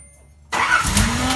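A Nissan 300ZX Z31 engine being cranked, a car starter kicking in abruptly after near silence and churning steadily close by without the engine catching.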